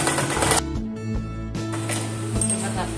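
Sewing machine stitching a frilled saree petticoat, short bursts of machine rattle broken by brief pauses, close and fairly loud.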